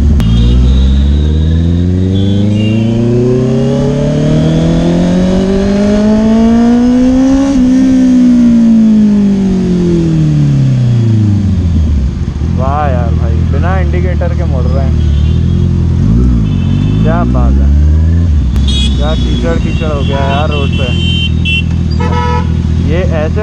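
Motorbike riding through slippery mud amid busy traffic, its engine droning and rising in pitch near and loud, with a car horn tooting repeatedly toward the end.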